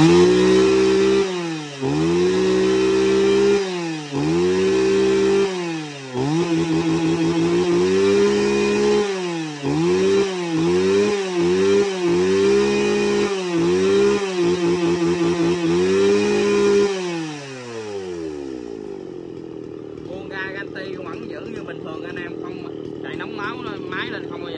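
A Japanese Shindaiwa 355 chainsaw engine on a test start, close and loud, revs in repeated rising and falling bursts, then drops away and settles into a steady, quieter idle.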